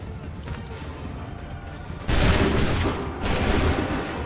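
In Assassin's Creed III, a steady background rumble gives way to a loud musket volley, followed a second later by a second burst of massed gunfire that rolls on through the end.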